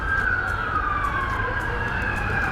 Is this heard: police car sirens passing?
yes